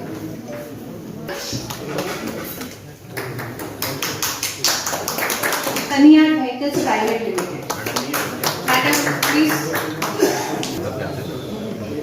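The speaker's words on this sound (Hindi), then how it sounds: "कृपया ताली बजाते रहें।" An audience applauds at an MSMe outreach camp and retail fair. Steady, dense clapping builds and carries on for several seconds while an announcer speaks over it.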